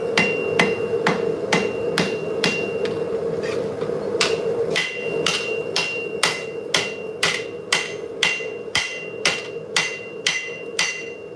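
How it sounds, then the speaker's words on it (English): Steady hammer blows ring out on hot steel being forged into shape, a long run of sharp metallic strikes at a regular rhythm, loud and close, with a low background hum underneath. "We're gonna keep hammering, but you know, gotta keep putting the steel back into shape"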